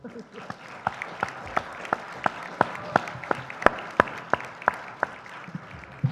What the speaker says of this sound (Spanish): un aplauso para Mayra González.